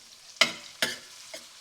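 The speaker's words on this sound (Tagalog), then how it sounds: "Lagyan na natin yung bawang. Hindi naman iba-brown yung bawang, basta matus ka lang ng konti." Garlic sautéing in a pan for a Cajun seafood boil: three short scraping stir strokes, the last one softer, over a low, steady sizzle.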